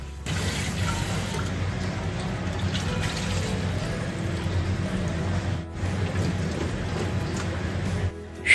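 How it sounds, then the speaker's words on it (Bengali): Water from boiled jackfruit draining through a strainer or basket, a steady loud rush and patter of falling water that carries on for several seconds close to the microphone. "এতে জলটা ঝরে যাবে।"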